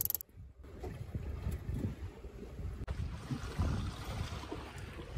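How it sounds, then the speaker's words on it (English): A sailboat crosses Pamlico Sound in fog on the way to North Carolina's Outer Banks, with creaking rigging and mechanical knocks over steady wind and water rush, and a brief dropout near the start. "I'm out here sailing across the Pamlico Sound"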